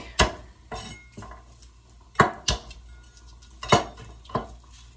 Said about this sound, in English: chopping up some garlic